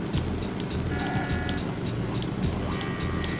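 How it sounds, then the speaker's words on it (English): Van engine in the Driver 2 Advance video game, using the armored truck sound effects, drones steadily and loud throughout with a low looping motor hum and faint higher tones, no speech. "This thing sounds like it uses the armored truck sound effects rather than the regular van sound effects."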